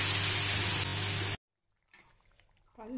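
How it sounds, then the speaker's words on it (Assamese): Broth poured into a simmering pot of climbing fish curry with tomato and potato, a loud steady gush of liquid for over a second, then it cuts off into near silence with faint kitchen noise and a brief voice. "ঝোল দি দিলোঁ"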